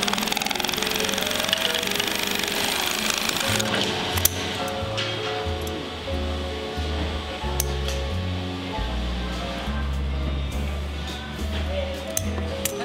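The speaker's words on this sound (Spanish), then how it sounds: "se cose la cintura del pantalón, que se remata con una costura en cadeneta" An industrial sewing machine chain-stitching the waistband of a pair of jeans runs in a steady rapid rattle with short stops and restarts, under a narrator's voice.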